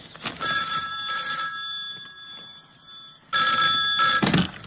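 A telephone rings in two loud trilling bursts separated by a quieter pause, with faint background sound in between.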